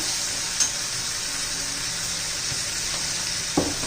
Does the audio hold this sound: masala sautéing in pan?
yes